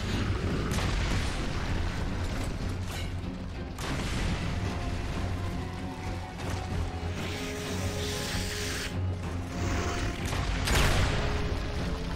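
Gunfire from a Boltok pistol and a Longshot rifle in the video game Gears of War: Judgment. Dense, loud shots and booming blasts repeat over a constant roar of combat noise, with no pauses between them.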